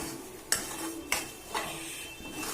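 A spoon scrapes a pan as sugar is stirred into beetroot halwa, with three distinct clinks over a soft, low sizzle.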